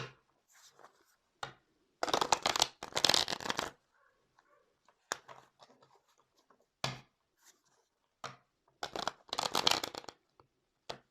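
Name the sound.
tarot cards being shuffled by hand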